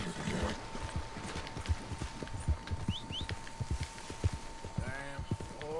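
Horse hooves clip-clop in Red Dead Redemption 2, a steady walking rhythm of close, soft thuds mixed with game ambience, with a brief whinny-like tonal call near the end and a thin constant hum underneath.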